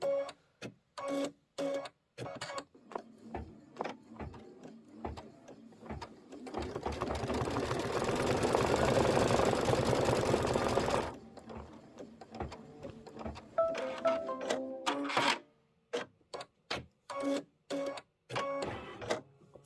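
An embroidery sewing machine stitches a Kimberbell flower block, with bursts of rapid mechanical chattering broken by pauses and short whirring stretches, plus one long sustained run of dense stitching in the middle, close and alone.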